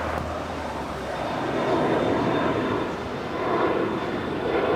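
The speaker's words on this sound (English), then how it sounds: "the Alaska Airlines and the Orca livery. 737 MAX 9 heading to Newark, flight 546. She is now next up for departure." An Alaska Airlines Boeing 737 MAX 9 in Orca livery departs LAX, its jet engines producing a broad, sustained roar that swells and eases, heard from a distance with a thin steady whine above.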